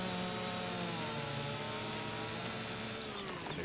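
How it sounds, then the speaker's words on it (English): A chainsaw in the video game Farming Simulator 25 runs continuously as it cuts into a large tree, a steady high engine whine with shifting pitch under a faint, close tone, without talk. "cutting these trees down with the chainsaw"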